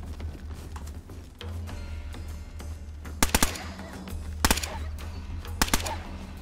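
Gunfire in the survival video game DayZ, with three tight bursts of two or three sharp, loud shots spaced about a second apart over a steady low rumble of background ambience.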